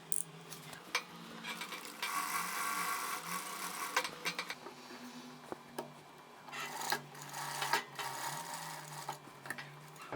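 Sewing machine running a long straight stitch on a blouse seam, quiet mechanical whirring in bursts with brief pauses, fabric rustling and handling between runs, no talking.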